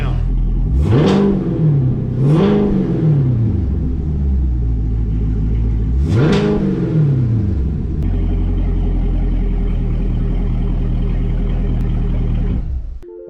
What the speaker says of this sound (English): the car sounds pretty good, fired up, idles really good